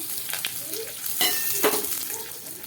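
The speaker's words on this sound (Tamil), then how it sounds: "மசாலா சேர்த்துட்டு நல்லா இந்த எண்ணெயிலே வதக்கி விட்டுருங்க" Masala sautéing in hot oil with popped mustard seeds and curry leaves for a taro root fry, a steady close sizzle with a few soft stirring scrapes.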